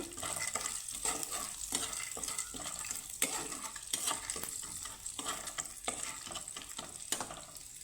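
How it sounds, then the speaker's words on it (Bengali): Chana dal (split chickpeas) frying in a pan for an oil-free snack, stirred continuously, a constant crackling sizzle broken by rhythmic scraping and light clinks of the spoon against the pan. "ছোলার ডালটাকে আমি ভেজে নেব"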